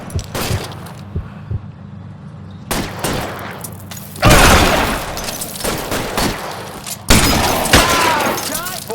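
Gunfire erupts in a shootout in the video game L.A. Noire, with scattered shots and then loud, dense volleys close by, over tense background sound.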